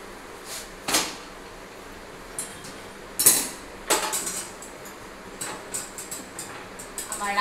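Kitchen clatter while roti is made for dinner: scattered clinks, knocks and clanks of pots and utensils come at irregular intervals over a quiet room background.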